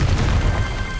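Confringo blasting spell in Hogwarts Legacy: a loud, crashing explosive boom that starts at full force and rolls on as a dense, steady roar before easing slightly.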